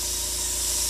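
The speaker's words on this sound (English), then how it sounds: "first of all I've got to turn on my air compressor." Steady airy hiss of a Copic airbrush spraying, with a low mechanical hum of an air compressor running underneath.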